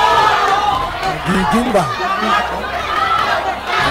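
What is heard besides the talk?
crowd reaction at Pacquiao boxing fight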